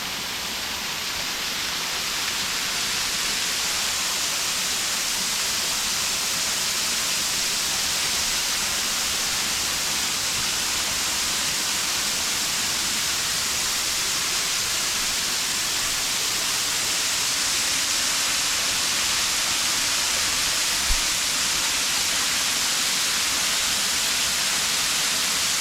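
The waterfall at Pearly Ponds sends up a steady, dense roar of rushing water that stays constant and fairly loud throughout, with no voices.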